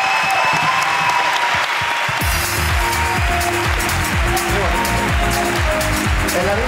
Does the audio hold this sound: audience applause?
yes